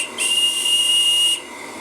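A radio-controlled Roca-Fortis steam launch lets out one shrill, steady blast from its steam whistle, lasting just over a second at close range, with a breathy hiss of steam around the tone.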